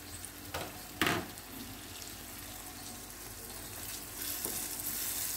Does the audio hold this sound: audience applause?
no